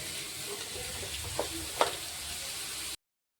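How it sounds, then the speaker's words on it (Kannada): Chopped onions and green chillies fry in a pan with a soft, even sizzle, fairly faint, with a couple of small stirring knocks before it cuts off. "ಈ ಈರುಳ್ಳಿ ಒಂದು ಸ್ವಲ್ಪ ಕೆಂಪಗಾಗತ್ತನ ಫ್ರೈ ಮಾಡ್ಕೊಳಂಬ್ರಿ"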